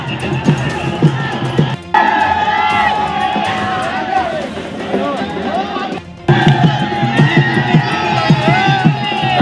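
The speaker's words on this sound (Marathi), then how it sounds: "जोरदार घोषणाबाजी देखील होतीये." A crowd at a Zilla Parishad and Panchayat Samiti election victory celebration cheers and chants slogans loudly and close, with rhythmic shouting and whoops, briefly cutting out twice before resuming.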